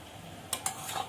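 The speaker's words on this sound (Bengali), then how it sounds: "একটু নাড়াচাড়া দিয়ে নেবো" A pot of cabbage cooking with fish head is stirred briefly, two or three quick scraping strokes of a spoon over a faint bubbling simmer, close and quiet.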